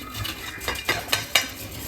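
Grated coconut roasts in a pan, with about five crisp metal spoon scrapes and clinks against the pan over a soft frying hiss. Each scrape is a short distinct stroke heard close up, and no one speaks.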